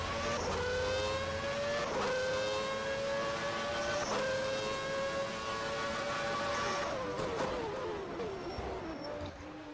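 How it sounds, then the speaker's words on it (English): On-board sound of a Williams Formula 1 car with a Renault engine at the Canadian Grand Prix: a loud, high-pitched engine howl that climbs through the revs, with sharp gear shifts about every two seconds and no commentary. "The sound of the Williams is very nice indeed. That Renault engine sounds beautiful."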